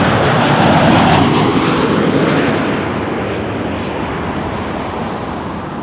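A Swoop airline jet roars loudly and close at Toronto Pearson, a broad rushing engine noise that peaks early and then eases slightly as it moves away, with no voices.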